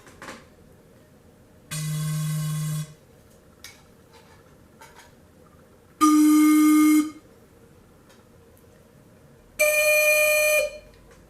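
A pan flute made of bell-shaped tubes gives three separate sustained tones about a second long each, loud and close, with near-silent gaps between them.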